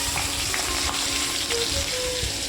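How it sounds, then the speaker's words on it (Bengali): Onions frying in oil with cinnamon, cardamom and five-spice, a dense steady sizzle close up with a few faint stirring touches and no voices. "পেঁয়াজগুলোকে হালকা হালকা করে ভেজে নেবার পর"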